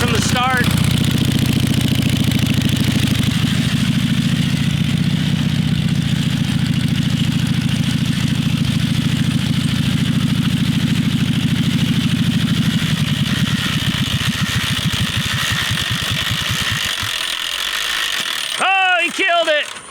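An old motorcycle engine idles loudly up close with a steady, rough mechanical rumble and ratcheting clatter, shifting and sputtering as the stiff clutch engages, then dying away near the end as voices call out.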